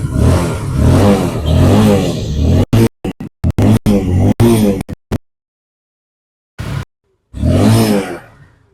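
A used motorcycle engine revs hard in several loud surges, then breaks into short choppy bursts with brief silences before one final rev.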